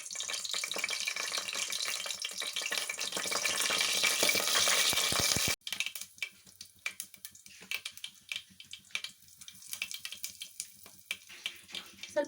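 Mustard seeds, about a teaspoon, tipped into a hot pan for sambar, giving a steady dense crackle that stops abruptly, then scattered sharp pops and spits continue at a moderate level with no talking.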